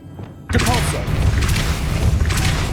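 A Depulso spell fires in the video game Hogwarts Legacy with a sudden forceful thud and blast after a quiet moment, followed by a loud, sustained rushing rumble as a voice calls out over it.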